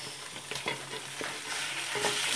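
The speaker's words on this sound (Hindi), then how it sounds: "अब ये भून गया तो अब हम इसमें चिकन डालेंगे।" Chicken pieces frying and being stirred in a pan for chicken korma, a close, busy sizzle with scraping stirs that builds slightly louder toward the end, with no voices.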